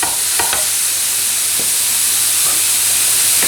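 Summer vegetables grilling for a pizza, a loud continuous hiss and sizzle with a few faint clicks near the start, no voices.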